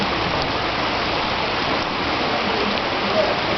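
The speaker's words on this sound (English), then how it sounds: "Listen to the rain." Heavy rain pours steadily during a thunderstorm in Costa Mesa, a dense, even wash of sound with no talking over it.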